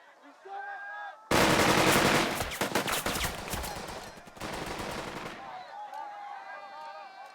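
A squad firing guns in the WW2 video game Burden of Command, a sudden loud burst of rapid machine-gun and rifle fire lasting about four seconds, with voices talking before and after.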